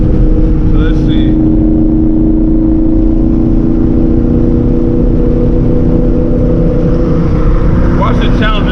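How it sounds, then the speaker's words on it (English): A twin turbo Boss 302 Mustang making over 850 hp pulls hard under high boost, its loud, steady engine drone heard from inside the car, with brief whistles near the start and end. "I'm gonna see how high this gets us in boost real quick"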